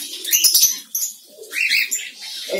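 A diamond dove flaps its wings in a short flurry while being caught by hand from a cage, close and loud, with brief bird calls and chirps around it.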